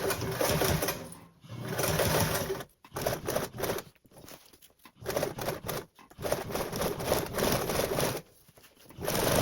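Sewing machine stitching a quilted blanket backpack panel, rapid steady needle chatter in close bursts broken by short pauses.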